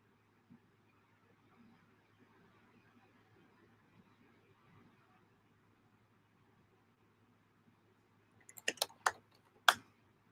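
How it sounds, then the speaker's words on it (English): Brief burst of computer keyboard keystrokes as an airport code is typed, a cluster of sharp clicks near the end following a long quiet stretch of faint room hum. "Let's just type it in real quick"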